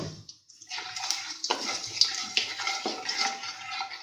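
Whole spices, including black peppercorns, drop into hot oil and burst into a sharp, close hiss that keeps up with bubbling and spattering, with a few light clinks of a utensil and no talking.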